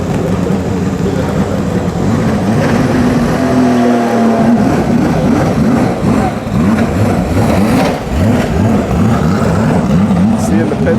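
Ferrari race cars blast down the start straight at Mugello during the Finali Mondiali, a loud, unbroken engine roar with rising and falling revs as cars sweep past close by.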